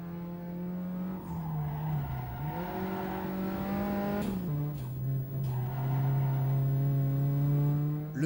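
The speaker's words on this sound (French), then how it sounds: "un moteur péchu bénéficiant d'un bon rendu sonore" A high-pitched single-seater racing car engine in the video game Netkar Pro drones steadily, its pitch dipping and climbing through gear changes, loud and close with no talking.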